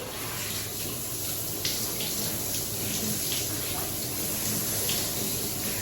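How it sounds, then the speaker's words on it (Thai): Water scooped up by hand and splashed onto the face during face washing, a steady close wash of running, splashing water with soft irregular splashes throughout. "ใช้มือวัก วักวักวักอย่างนี้ได้แต่อย่าไปถูหน้าแรง"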